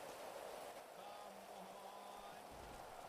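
Game rain in a GTA role-play session, a continuous even hiss of falling drops, with a faint low hum and a thin high tone drifting briefly through the middle.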